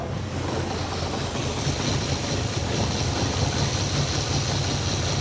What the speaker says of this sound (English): Oh, got a misfire.